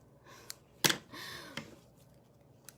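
Scissors snip through ribbon during papercraft stamping, a few quick close cuts with one sharper loud snip, in an otherwise quiet room.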